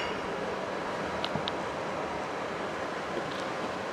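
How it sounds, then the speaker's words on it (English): Ocean surf rolling steadily onto Varkala beach, a continuous broad wash of breaking waves with light wind noise, no voices. "there's the ocean"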